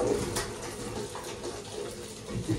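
Tap water runs steadily into a sink while food is washed in a home kitchen, a continuous close splashing stream with slight clatter.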